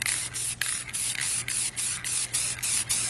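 Aerosol spray paint can spraying primer onto a 3D-printed Stormtrooper, a loud close hiss in a series of short bursts separated by quick pauses, with a low hum underneath.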